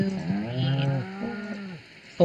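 Cows mooing in the farming game Stardew Valley: a couple of drawn-out, loud, close moos in quick succession with no talk over them.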